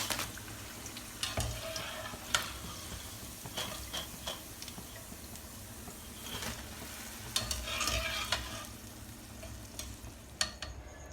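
Fried pakoras are dropped into simmering kadhi and stirred: a continuous bubbling sizzle broken by repeated clattering spoon knocks and scrapes against the pot, close and fairly busy, with no voices.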